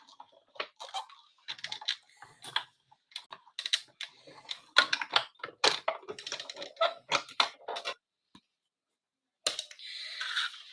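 Die-cutting machine running stamped paper shapes through for crafting, producing a quick irregular series of close, fairly quiet clicks and ticks, then a brief silence and a final faint whirring rustle.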